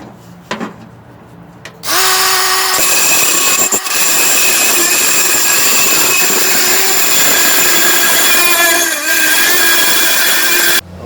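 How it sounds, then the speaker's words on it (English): Power tool cutting a custom light socket for a 1937 Chevy Master Deluxe, a loud sustained whine that kicks in after a few faint knocks and runs steadily with a brief dip, no talking. "Take the old socket out and put a new socket, and I have to do some cutting."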